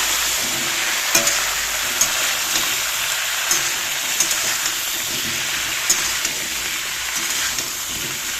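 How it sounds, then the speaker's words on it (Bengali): Potatoes sizzle steadily in hot oil in a pan, a continuous close frying hiss with occasional light clicks of stirring, no voices. "এখানে দুটার সময় দিয়ে দিয়েছি আলুগুলো কড়া ভাজবো"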